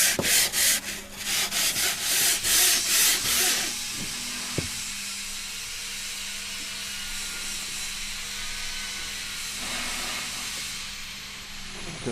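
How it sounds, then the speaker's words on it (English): A sanding block rubs a bevel onto a rotor edge in quick rhythmic strokes at first, then a steady, loud abrasive hiss keeps going to the end. "We want to take a sanding block,"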